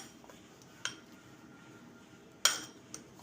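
A spoon works peanut chutney with raw oil in a bowl, giving a few sharp metallic clinks against a quiet background, the loudest near the end.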